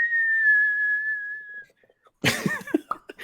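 A single sustained whistled note as a Tourette's tic, clear and close for about a second and a half, then a short pause before a burst of coughing or throat-clearing noise.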